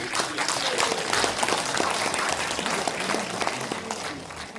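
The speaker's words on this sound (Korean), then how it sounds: "박수 한번 크게" A large audience at a Suncheon briefing on the Jeonnam–Gwangju integration bursts into loud, continuous applause, a thick crowd of clapping hands holding steady from start to finish.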